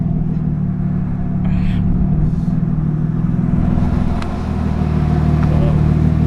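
A lowered car with new GKTECH steering rack bushings driving along, a loud steady engine and road rumble that holds even throughout, heard from inside the car.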